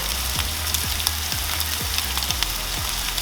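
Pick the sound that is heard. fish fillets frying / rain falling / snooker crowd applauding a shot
fish fillets frying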